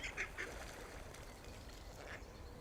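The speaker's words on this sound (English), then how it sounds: "All right, ducks." Ducks near a path and bridge quacking, a quick burst of three faint, distant quacks at the start and another single quack a little later over quiet outdoor background.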